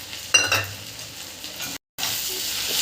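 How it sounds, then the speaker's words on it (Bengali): Chopped onion and tomato frying with salt, chilli powder and turmeric in a pan, a steady close sizzle broken by a brief scrape of stirring and a short gap. "অল্প পেঁয়াজ কুচি আর টমেটো কুচি দিয়ে একসঙ্গে ভালো করে ভেজে নেব"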